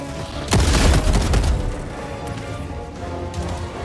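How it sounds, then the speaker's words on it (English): Loud explosion in the video game Helldivers, a heavy boom with a crackling burst that rings out and decays over several seconds, with smaller blasts trailing behind. "They make gorgeous explosions."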